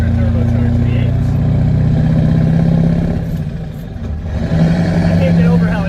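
A deep turbocharged CAT 3208T diesel engine in a medium duty truck rumbles steadily up close, dipping briefly before revving back up, with a person talking over it.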